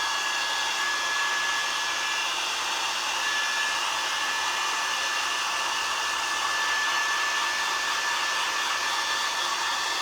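A hair dryer blows steadily and loudly on a wax-based autumn craft project, a continuous even whoosh with a faint high whine running the whole time, with no voices.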